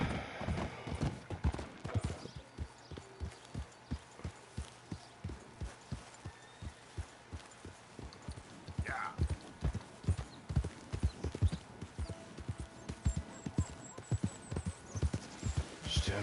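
A ridden horse's hooves clip-clop at a steady walking rhythm in the western video game Red Dead Redemption 2, close and continuous, with a short snort or whinny partway through.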